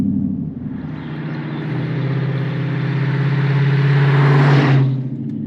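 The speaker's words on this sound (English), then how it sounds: "Huge props to the owners for the exhaust tune. It's pretty loud in here" A loud, deep tuned exhaust rumble from a 2009 Dodge Challenger R/T muscle car drones steadily from inside the moving car, swelling as the engine builds before easing off near the end.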